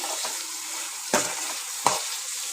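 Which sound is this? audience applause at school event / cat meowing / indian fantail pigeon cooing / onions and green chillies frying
onions and green chillies frying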